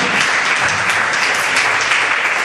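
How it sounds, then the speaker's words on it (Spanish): Congregation at a church service applauding in praise, a steady, dense wash of many hands clapping close and loud throughout, with no speech. "Aplauda a Jesús, dale alabanza, dale alabanza."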